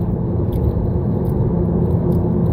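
A car engine revs toward its red line with a raspy, little race-car tone, holding a loud, steady low roar close by throughout with no talk.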